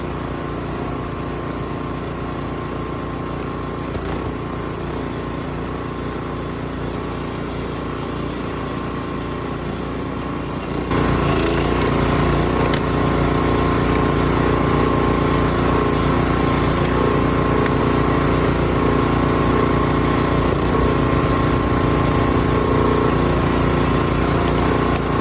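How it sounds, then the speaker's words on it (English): Small gas-powered wood chipper running steadily, a continuous droning motor hum that jumps noticeably louder partway through and then holds at that higher level, close by with no talking. "Even though this chipper is small"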